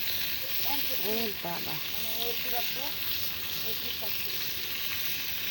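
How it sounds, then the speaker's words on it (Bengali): A wood-fired clay stove burns strongly, giving a steady broadband crackle and hiss throughout, with a voice speaking briefly over it early on. "এই দেখুন কীভাবে আমার চুলাটা ধাও ধাও করে জ্বলছে"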